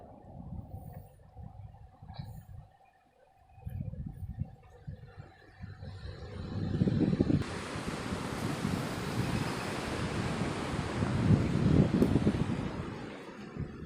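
Waves break and wash in on an empty beach at Dahanu in the early afternoon, and wind buffets the microphone. The surges come in irregular swells that grow louder and fuller in the second half.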